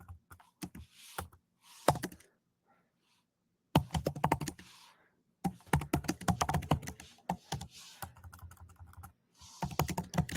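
A zip code is typed on a computer keyboard in quick, close clusters of key clicks, separated by short silent pauses, fairly crisp with no talk.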